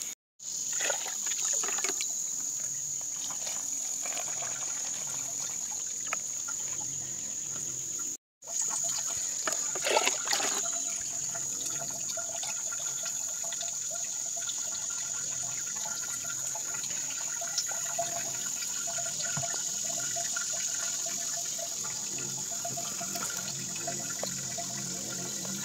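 Water trickles steadily through a homemade bucket water filter, a continuous close dribble with a faint high hiss and occasional small splashes, with no talking.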